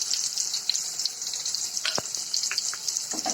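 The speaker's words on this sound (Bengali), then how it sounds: "এবার আমি আলুগুলো ছেড়ে দিলাম ভাজার জন্য।" Potatoes seasoned with salt and turmeric sizzle and fry in hot oil in a wok, a steady bright hiss with a few faint clinks and small stirring clatters, no voices.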